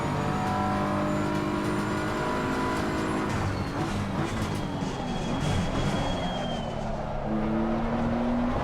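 A BMW race car engine roars in Assetto Corsa Competizione, a sustained loud drone with shifting revs as the car races on, no talk over it.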